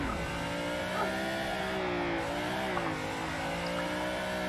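A car engine in a drift racing simulator game holds a high, steady rev with a slight pitch dip and rise while accelerating, fairly quiet, with no talk over it.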